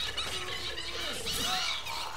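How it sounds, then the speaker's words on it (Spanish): Shrill, wavering screams from the killer fetus baby creature in Resident Evil Village's Casa Beneviento, sliding squeals and wails layered over a dense, eerie background. "los gritos del feto ese, güey"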